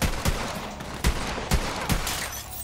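Bursts of gunfire from the video game Borderlands 3, four or five sharp loud shots spaced roughly half a second apart over a steady background of game noise.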